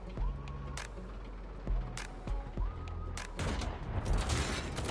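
Sniper rifle gunfire in the game War Tycoon: a few separate sharp shots spaced out over several seconds, followed by a busier burst of blasts, with engine-like rumble underneath.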